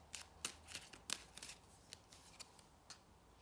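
Tarot cards are shuffled in a quick series of crisp, close riffling slaps and flicks, several sharp bursts then sparser ones, quiet and alone with no talking.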